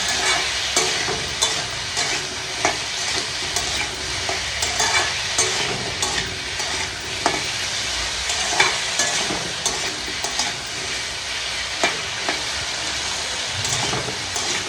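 Aloo posto, potatoes with poppy seeds, cooking in a pan with a steady dense sizzle and frequent scraping stirs, loud and close, with no talking.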